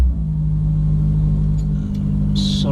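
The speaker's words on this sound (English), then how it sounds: "it's just done a cold start, so basically the valves and everything are open and the engine basically runs almost 1000 RPM higher than at just idle" A Mercedes CLA 45 AMG engine running a raised, high idle just after a cold start: a steady, loud low rumble with no revving, continuous throughout and alone.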